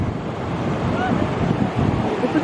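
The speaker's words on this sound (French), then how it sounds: "Elle est super belle, il y a des très beaux rouleaux, mais il y a un peu de vent" Ocean surf with big rolling breakers at a Moroccan beach, heard as a steady broadband wash of waves under gusty wind buffeting the microphone, loud and continuous throughout.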